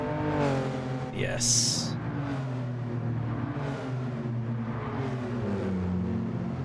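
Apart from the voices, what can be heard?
straight six-cylinder race car engine revving in Gran Turismo 7 video game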